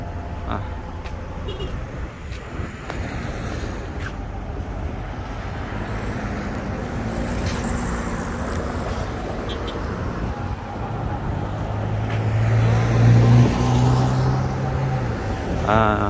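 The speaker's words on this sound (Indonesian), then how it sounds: "Ini taksi-taksi yang menunggu penumpang" Taxis idle near Masjidil Haram in Mecca, making a steady rumble of engines and street traffic that builds slightly toward the end, with faint voices in the background.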